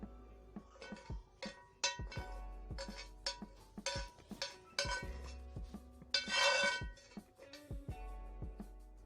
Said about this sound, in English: This is actually hot at the moment, so transfer it into a bowl